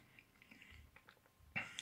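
Crunchy Russisch Brot biscuits being chewed, a few faint, close bites and crunches scattered through near-silence, ending in a sharper burst of crunching.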